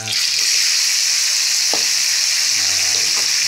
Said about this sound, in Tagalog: Igisa muna natin sa sibuyas, luya, saka kamatis.